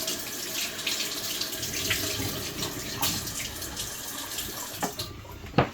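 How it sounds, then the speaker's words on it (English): Tap water runs steadily into a sink as hands are wet before working a sticky focaccia dough, a continuous close wash of flow with a few brief splashes and drips near the end. "let me get my hands wet because it's a sticky dough"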